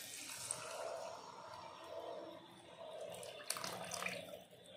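Tamarind water, tamarind dissolved in 750 ml of water, is poured into a pot for thuthuvalai rasam, making a soft continuous splashing flow that stays faint and steady for several seconds.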